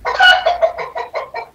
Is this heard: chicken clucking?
yes